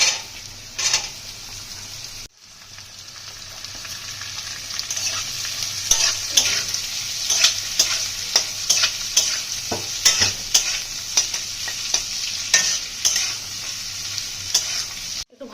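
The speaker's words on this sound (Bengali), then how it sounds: "একটা ভেজে নিয়ে সবজিগুলো এক এক করে ভেজে নেব।" Vegetables sizzle in a hot pan for fried rice, with repeated spatula scrapes and clinks giving an irregular stirring rhythm over a constant frying hiss, close and fairly loud.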